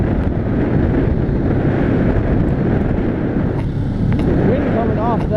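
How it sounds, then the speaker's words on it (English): Strong wind blowing off a cold lake buffets the microphone with a constant loud roar that fills the whole stretch, and a voice briefly breaks through it near the end. "the wind coming off that lake is cold, and it was just blowing hard too."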